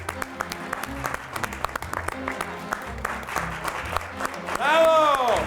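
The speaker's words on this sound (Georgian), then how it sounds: "აპლოდისმენტებით შევეგებოთ" An audience applauds to welcome a performer on a Georgian TV show, steady clapping under a host's voice, ending with a rising musical tone.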